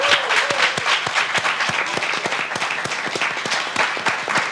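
Studio audience at a 1999 Serbian television show breaks into steady, dense applause, many hands clapping together close and loud with no pause.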